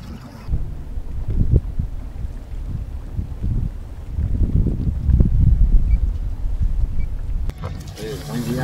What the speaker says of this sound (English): boats are coming through, but they're not coming through fast.